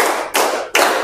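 Students play an ice-breaking game, clapping hands in unison: two or three sharp, loud group claps spaced about half a second apart, close by and with no talk over them.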